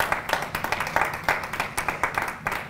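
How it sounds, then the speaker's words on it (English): A church congregation claps in praise, a brief rhythmic run of hand claps in a loose steady beat, moderately loud and mostly without talk. "Let's give the Lord a hand clap of praise."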